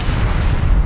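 A zombie film's explosion effect gives a brief, loud, deep boom with a heavy low rumble lasting about a second.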